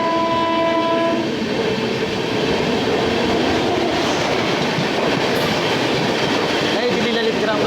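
New Delhi Lalit Gram Vaishali Express passing at Panki Dham station, a horn sounding at the start over loud continuous rolling wheel rumble and clatter that carries through to the end.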